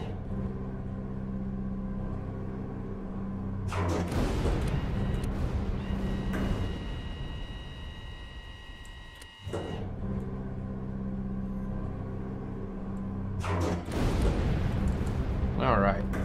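Weapon rounds from Stormworks pound into steel target plates in three heavy booming bursts, each a few seconds long, separated by stretches of low engine-like rumble, loud and close.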